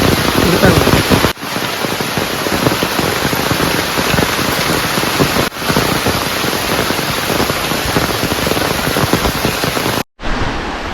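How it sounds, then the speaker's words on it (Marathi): Steady heavy rain pours down in a dense forest, a loud continuous hiss of drops on leaves and ground, broken by a couple of brief dips; faint voices may sit beneath it. "पाऊस कसा चालू झाला"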